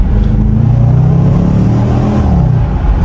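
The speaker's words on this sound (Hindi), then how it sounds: "तो ये है V8 सुपर चार्ज इंजन" A supercharged V8 engine in a car revs loud and close, a deep thick rumble holding steady and then easing off slightly near the end, with no talking over it.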